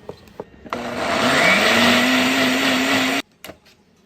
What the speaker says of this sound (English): Put those in a nice blender. We're gonna blend this up.